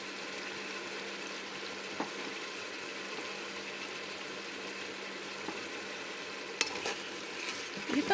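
Chicken frying in a pan and being stirred, with a steady sizzle and occasional scrapes and clinks of the utensil, heard close and continuous.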